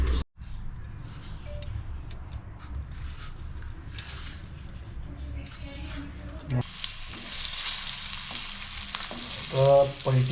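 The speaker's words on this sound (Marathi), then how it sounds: "आपण हे तवा फ्राय करणार तवा आहे." Pomfret fish shallow-fries on a flat tawa with a crackling, spitting sizzle that swells into a louder, denser hiss partway through, with a brief clatter near the end.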